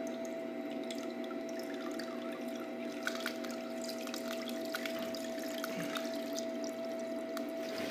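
Water flows and trickles steadily through a spinning Blue Bowl gold concentrator during a gold cleanup, with a continuous low hum from the equipment and small splashes and drips throughout, close and moderately quiet, no talking.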